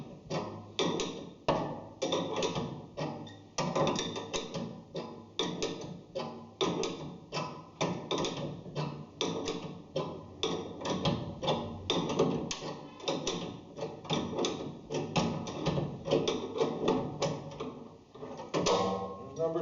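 A knockout cutter bolt is cranked to punch a 2-inch electrical knockout, giving a steady run of close metallic ratcheting clicks in a regular rhythm.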